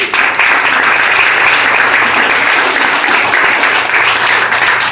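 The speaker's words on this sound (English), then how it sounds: "I just want to give a huge round of applause to all of our employees" Loud, sustained round of applause from a gathered crowd honoring bakery employees, dense clapping continuing without a break throughout.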